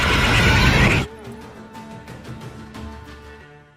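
A mare neighs in The Witcher 3, a loud whinny at the start that cuts off abruptly, followed by quieter game ambience.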